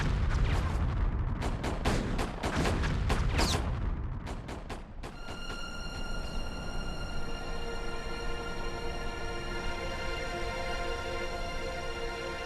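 Heavy artillery barrage from the 1918 German offensive: rapid, dense booms and blasts rolling one after another, then giving way to a sustained ringing, tonal drone.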